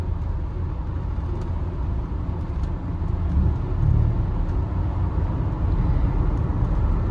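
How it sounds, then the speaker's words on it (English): A 1985 Mercedes 300TD diesel wagon cruising on a highway, its steady low road and engine rumble filling the cabin continuously with slight swells of tyre and wind noise, no talk. "This thing drives down the road very well. I've had it up north of 100 miles an hour and it feels very planted."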